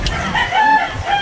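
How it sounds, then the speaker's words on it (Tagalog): A chicken crows once, loud and close, its drawn-out cock-a-doodle-doo filling the brief moment with no talk over it. "May manok? May manok kita."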